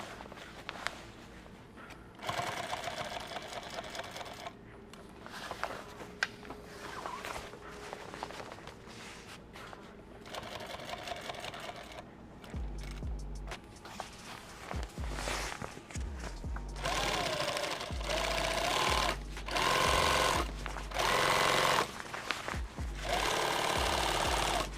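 A sewing machine stitches contrast thread onto a kit bag, running in bursts of rapid mechanical chatter that stop and restart, louder and longer toward the end, with handling clunks between runs and no talking.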